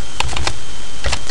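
Fast keystrokes on a computer keyboard, a quick burst of several clicks, a short pause, then a few more taps, close and crisp.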